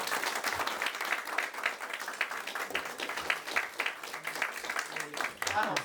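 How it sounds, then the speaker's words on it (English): Audience at a Republican House of Delegates district debate claps in a moderate, steady round of applause, crisp individual claps audible throughout, with some talking beneath. "Give everybody a round of applause."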